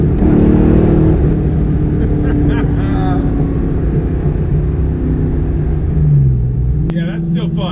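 Fox Body Mustang exhaust running 15-year-old FlowMaster mufflers and 2.5-inch tailpipes, a loud, deep, steady rumble close up from inside the car with windows down, swelling into a brief rev near the end while people talk over it.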